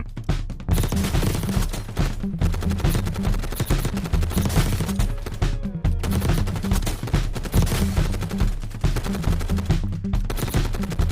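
Sustained LMG fire in the mobile shooter Warzone Mobile, a long unbroken stream of rapid, heavy shots with only brief pauses between bursts, loud and close throughout.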